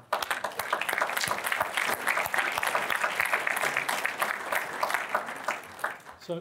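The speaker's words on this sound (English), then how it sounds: "So I'm going to applaud all of you" Audience at a community foundation annual meeting applauds in a sustained, dense round of clapping that fills the room evenly, fading slightly near the end as a voice begins.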